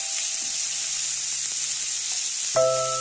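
Turmeric and spices frying in hot oil for a traditional mrigel fish and green banana curry, giving a steady soft sizzle with light stirring scrapes, then a brighter burst of hiss near the end.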